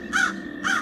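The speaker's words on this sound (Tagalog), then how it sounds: "narinig niyo yun? Oo, uwak lang yon." A crow caws twice in a forest, two loud, close, harsh calls evenly spaced with a short gap between, and no voices.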